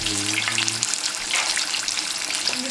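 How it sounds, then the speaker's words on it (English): Chicken pieces fry in hot oil in a pot, a steady loud broadband sizzle holding throughout, with a brief low hum fading out near the start. "that sizzling noise once again, and you want to keep it in there for a few minutes or until it gets golden brown"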